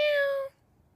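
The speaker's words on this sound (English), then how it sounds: "Hello, kitty. Another kitty." A single cat meow, a clear tonal call about half a second long, close and fairly loud, then quiet room background.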